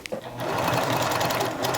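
A sewing machine stitches strips of fabric for a lanyard at a 2.5 millimeter stitch length, a close, steady rapid whirring hum that runs continuously after a brief start.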